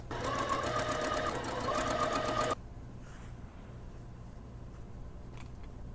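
A sewing machine runs a close, rapid stitch while topstitching a shoulder elastic casing on a puffy sleeve, then stops abruptly partway through, leaving quiet room noise.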